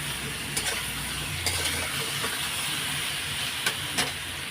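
Potatoes, pointed gourd and shrimp fry in a pan with cumin, ginger paste and green chilli paste, giving a steady close sizzle broken by a few sharp clicks of stirring.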